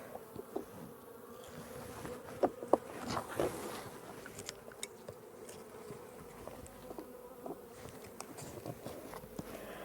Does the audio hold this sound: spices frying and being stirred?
no